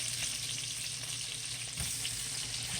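Peppers and onions sauté in a hot pan with a dense, steady sizzle and hiss throughout, close and loud, with one faint utensil knock partway and no voices.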